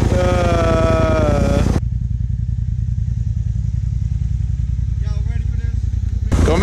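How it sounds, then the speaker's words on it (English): A Polaris RZR Turbo S side-by-side spins snow donuts and burnouts, its engine roaring loudly up close, then dropping to a lower rumble with clattering before surging again at the end. "Doing some snow donuts and burnouts as a victory for getting the control arm done."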